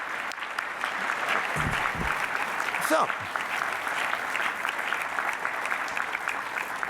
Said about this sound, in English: I think we should give them all a very profound round of applause by way of thanks